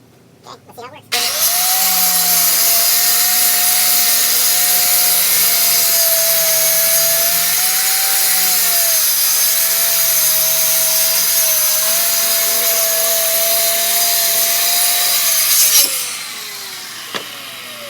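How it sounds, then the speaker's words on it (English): A power saw cuts through plywood in a garage workshop, starting abruptly after a few knocks and running loud and steady with a sustained whine for about fifteen seconds before spinning down. "All right, I got to start cutting the plywood."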